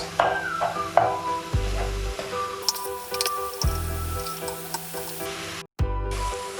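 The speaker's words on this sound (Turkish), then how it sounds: "Güzelce kavuruyoruz sebzemizi arkadaşlar." Grated vegetables and a grated potato sauté in a pan with a continuous close sizzle, broken by repeated scraping stirs and a few dull low knocks of the spoon against the pan.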